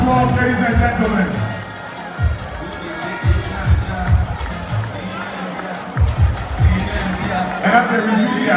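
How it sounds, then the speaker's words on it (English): A large crowd at a political rally cheers and claps in a steady, loud wash, with bursts of shouting rising and falling and an amplified voice speaking over the noise. "give a big round of applause, ladies and gentlemen"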